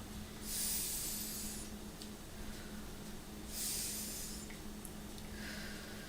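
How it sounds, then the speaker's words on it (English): Slow, airy breaths are heard up close, two long hissing exhales several seconds apart with quieter inhales between, over a faint steady hum. "Breath in, breath out."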